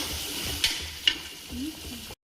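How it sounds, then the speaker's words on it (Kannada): Tomatoes frying in a pan for egg biryani, a faint steady sizzle with two sharp metallic taps of a utensil and some low murmuring in the background. "ಟೊಮೊಟೊ ಒಂದು 2 ಮಿನಿಟ್ಸು ಫ್ರೈ ಮಾಡ್ಕೊಳ್ಳಿ"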